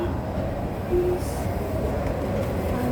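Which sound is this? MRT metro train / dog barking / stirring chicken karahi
MRT metro train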